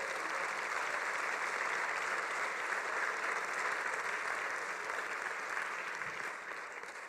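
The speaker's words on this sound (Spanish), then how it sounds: "Y justamente un aplauso para Jesucristo." A church conference audience applauds steadily throughout, a dense even roar of clapping that fades slightly at the end.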